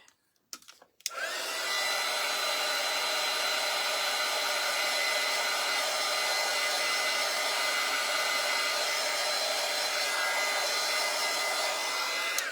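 A hair dryer blows steadily on freshly stenciled paint, switching on after a brief rustle and then running at a loud, constant roar for the remainder.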